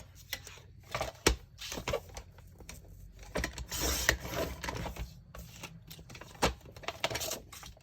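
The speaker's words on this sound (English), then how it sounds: "Now I need 4 pieces of this, so I'm going to tear again" Scrapbooking paper being torn by hand into pieces, giving quick close rips and crinkly rustles in short irregular bursts, with occasional sharper clicks between them.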